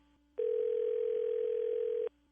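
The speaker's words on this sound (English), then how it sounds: "Let me see if I can get him on the phone." Telephone dial tone while a call is being placed: a single steady, clean electronic tone starts abruptly, holds for under two seconds, then cuts off, with quiet room sound around it.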